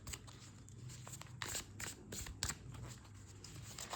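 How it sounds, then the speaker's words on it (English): Tarot cards are shuffled in quick riffling bursts, several crisp flurries of papery slaps close by, separated by brief quieter pauses. "Let's give the cards a nice shuffle."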